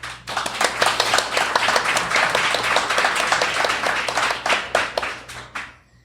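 A large audience clapping at a live haunted-Elgin podcast event: dense, continuous applause for several seconds with sharp individual claps standing out, then tapering off at the end.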